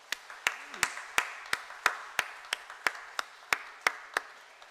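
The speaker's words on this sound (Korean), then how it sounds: "우리 임마누엘 찬양대 모두들 건강하시도록 또 앞으로도 귀한 찬양 저희들에게 전해줄 수 있도록 우리 따뜻한 마음을 담아서 박수하겠습니다" A church congregation claps steadily in unison for the Immanuel choir, about a dozen sharp, evenly spaced claps ringing out in the hall, with no talking.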